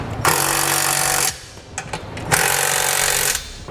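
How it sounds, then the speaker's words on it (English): An impact wrench with a 17mm socket hammers on the hex bolts of a Curt trailer hitch receiver on a 2013 vehicle in two loud sustained bursts, with a brief pause and light clanks between them. "Next, we'll tighten all of our hardware. We're going to be using a 17mm socket on our hex bolts."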